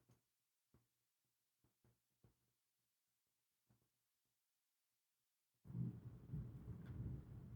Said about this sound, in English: I'm sorry about the thunder